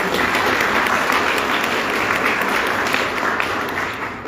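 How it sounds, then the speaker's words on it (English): Audience at a congressional candidate forum hosted in a church hall gives a steady, loud round of applause, dense clapping filling the whole clip without a break. "Can we do a round of applause to these incredible leaders?"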